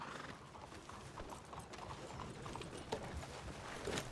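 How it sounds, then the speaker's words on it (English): Horse hooves clip-clop steadily at a moderate distance, a continuous patter of hoofbeats over a busy background with a faint whinny-like sound near the end. "Horse."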